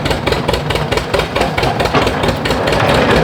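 A 1920s John Deere Dain hay press, driven by a tractor, pounds away in a fast, steady mechanical rhythm of repeated knocks over a continuous engine rumble, loud and close.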